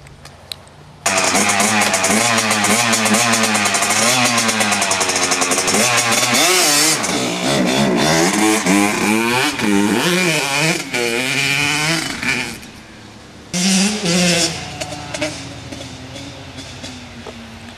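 A KX 85 dirt bike revs hard for about 12 seconds, its two-stroke engine rising and falling as the rider accelerates and shifts, then cuts off briefly and surges again, loud and close.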